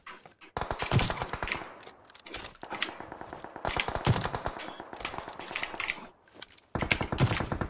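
Rapid bursts of automatic gunfire from the battle royale game PUBG, loud repeated volleys with brief pauses between them, heard alone without talk.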